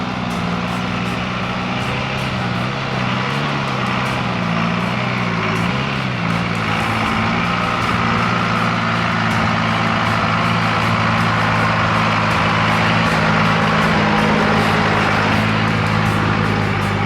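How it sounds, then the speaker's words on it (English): A tractor engine runs steadily and loudly throughout, a continuous low droning rumble with a constant throb, on a river trip with four-wheel driving and no talking. "Last but not least, the tractor."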